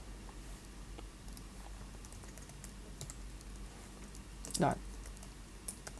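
Typing on a computer keyboard, quick faint key clicks in an irregular rhythm over a low room hum, with one louder brief burst near the end, no speech.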